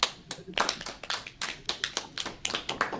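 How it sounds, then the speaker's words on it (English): A lone person claps for himself after a physics talk, a steady run of crisp, separate hand claps at moderate distance with no voices over them. "Aaron, you don't need to applaud yourself"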